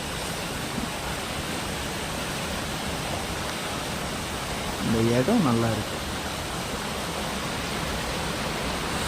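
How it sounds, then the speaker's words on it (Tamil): A steady, rushing wash of a small waterfall falling over rocks in Kodaikanal fills the clip at an even level, with a person speaking briefly over it midway. "ரூம்லேருந்து கேட்டுட்டு இருந்த வாட்டர் ஃபால் சவுண்டு இதுதாங்க."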